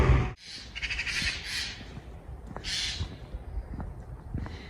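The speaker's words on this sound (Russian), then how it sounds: "Только птицы между собой ссорятся." Harsh crow-like squawks and caws trade back and forth nearby in Poland, rough bursts overlapping in a noisy outdoor squabble.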